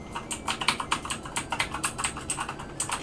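Rapid, uneven key presses on an Amstrad CPC computer keyboard, a close clicking clatter of typing that runs steadily with no voices.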